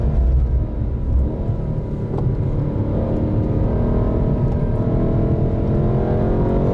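A BMW M8 Competition coupe engine runs close by on a race track with a steady, throaty drone, its pitch holding fairly even with slight revving swells throughout.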